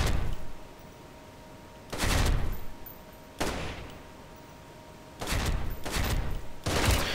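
An HK147 gun fires in the video game Special Force 2: about five short bursts of rapid automatic shots, loud and close, separated by brief quiet pauses.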